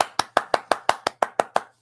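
Nine sharp hand claps in a steady, evenly spaced rhythm, close and crisp, each ringing briefly before the next, ending in quiet.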